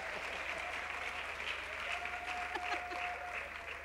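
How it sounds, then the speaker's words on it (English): Church congregation at a sermon clapping steadily throughout, a dense even patter of many hands with a faint sustained tone running beneath, no speech over it. "The women shouldn't fear to clap."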